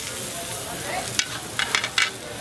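Bulgogi and sirloin steak sizzle on a Korean barbecue grill, a steady close hiss of frying meat with a few sharper crackles and pops toward the end, no talking.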